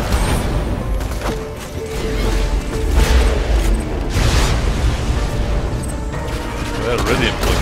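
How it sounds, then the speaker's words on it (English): Repeated booming blasts of grenades going off in the video game Borderlands 2, heavy low thuds layered over a busy backdrop of gunfire and game effects, with loud bursts around the middle of the stretch. "Throwing more grenades."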